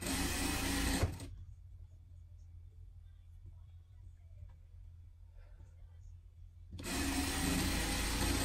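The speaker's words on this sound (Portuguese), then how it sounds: "E vamos passar uma costura de segurança aqui." Sewing machine stitching a safety seam along a small pet dress, a steady loud mechanical run at the start and end with a quieter pause between the two bursts.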